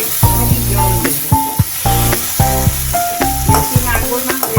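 A loud, close hiss and crackle as a splash of water hits partly fried potatoes cooking with spices in a pan, the sizzle surging in waves over a steady tonal background.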